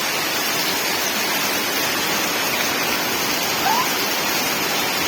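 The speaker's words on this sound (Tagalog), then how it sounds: "Malakas pati ng ulan guys." Heavy rain falling on a rainy afternoon in the Philippines, a loud continuous broadband hiss that holds steady throughout with no voices over it.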